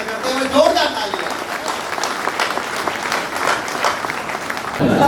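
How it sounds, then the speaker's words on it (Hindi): An audience at a Hindi poetry recitation by a poet breaks into loud, dense applause that holds steady for several seconds, with some voices under it. "जोरदार तालियां"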